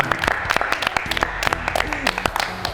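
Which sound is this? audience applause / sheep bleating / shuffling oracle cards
audience applause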